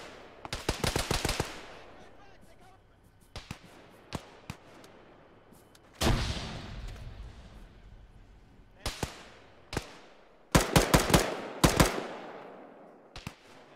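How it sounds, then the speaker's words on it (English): Heavy machine gun fire from a BTR armored vehicle in a combat video game: several rapid bursts, some long and some short, loud and sharp, scattered across the scene with brief gaps between them. "Alpha has some kind of HMG,"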